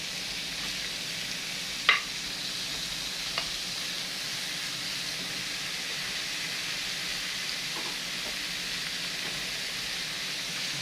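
Cubed meat frying in a pot, a steady even sizzle with a couple of brief knocks from a stirring spoon.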